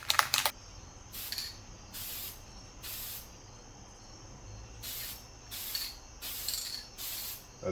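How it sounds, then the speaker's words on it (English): Short hissing bursts from an aerosol can of high-temperature silicone coating sprayed onto a catless downpipe, about eight sprays at irregular intervals, close by with quiet pauses between them. "We know how to spray stuff at this point."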